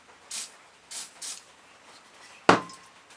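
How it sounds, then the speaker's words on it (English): Three short hissing bursts of WD-40 aerosol spray on a Subaru Impreza alternator bearing, followed by a sharp clunk, all fairly quiet at close range. "A bit more WD-40."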